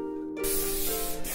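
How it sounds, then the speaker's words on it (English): Hairspray from an aerosol can, a single broad hiss that starts abruptly and holds steady for about a second, close and fairly loud. "now I'm gonna just take some hairspray."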